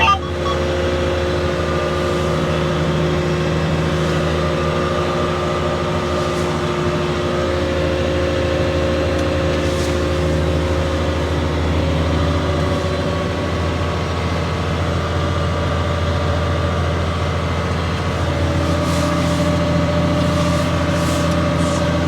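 A John Deere tractor with auto steer works in a field as it gets underway, its engine holding a steady loud droning hum with a constant tonal whine throughout, heard from inside the cab.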